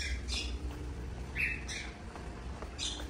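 Lovebirds squawk and chirp in a second-hand shop, several sharp, shrill calls scattered across a few seconds, fairly faint against low room noise, with no talking.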